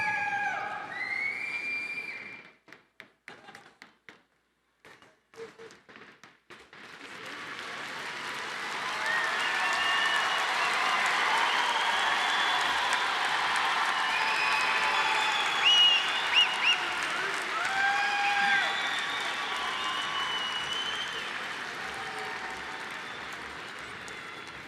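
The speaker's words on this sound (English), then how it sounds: "Please join me in another round of applause" A large crowd at a university commencement ceremony applauds steadily for a long stretch with scattered cheers and whistles, preceded by a brief moment of speech and a few stray claps.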